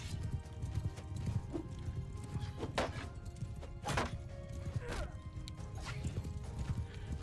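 Horses' hooves clip-clop steadily in a video game battle with cavalry, a dense rhythmic clatter of several animals with occasional whinnies and impacts over a busy background.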